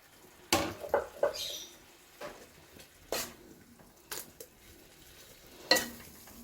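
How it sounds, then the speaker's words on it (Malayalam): Cooked banana stem poured into a pan of moong dal, a series of scattered clinks and scrapes with a soft sizzle, spaced irregularly and fairly quiet. "ഇനി ഇതിലേക്ക് നമുക്ക് വാഴത്തണ്ട് വെന്തത് ഒഴിച്ച് കൊടുക്കാം."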